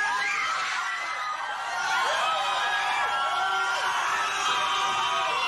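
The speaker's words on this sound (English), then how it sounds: "Screaming fans." Loud, dense crowd noise from concert fans at a show, with sustained high-pitched screaming and cheering, shrill voices layered over one another across the whole stretch.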